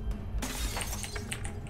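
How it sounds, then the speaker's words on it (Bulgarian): Glass shattering in a horror video game about a scary neighbour, a single crash near the start followed by scattered tinkling fragments over steady game ambience. "Бихте стъкло!"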